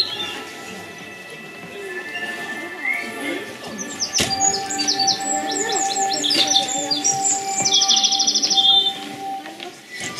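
A nightingale sound effect in a theatre stage performance: bright, varied chirping and trilling birdsong fills the scene, with rapid repeated phrases and a sharp click partway through, over a faint background hum.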